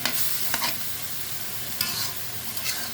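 Shrimp and onion paste sizzles steadily in a pan, a dense close hiss broken by a few soft stirring scrapes of a utensil against the pan, with no voices.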